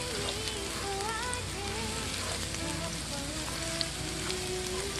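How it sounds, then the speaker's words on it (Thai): Liver stir-fried with chillies and garlic sizzles and crackles steadily in a hot pan, a continuous dense frying hiss with occasional faint clinks, while a voice talks quietly in the background. "ผัดพริกกับกระเทียมให้หอมหอม แล้วเขาก็เอาอัน ตับเข้ามาลงผัดนี่ค่ะ"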